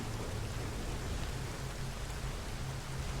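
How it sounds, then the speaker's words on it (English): Rain in the video game Nioh, at a rainy lakeside, mixed with real rain against a nearby window: a steady, dense hiss of falling drops with a low rumble underneath, constant and fairly loud with no voices. "the double effect from the rain going against the window next to my left ear? While the rain is falling in the game"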